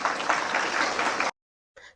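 An audience at a pyramid meditation talk claps in a brief, dense burst that cuts off sharply, then a short patter of clapping resumes.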